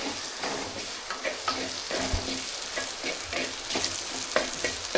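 Jackfruit stir-fry being stirred in a hot pan, a dense, steady sizzle with repeated scraping spoon strokes, close and continuous without speech.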